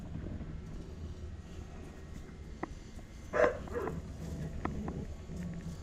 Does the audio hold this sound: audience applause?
no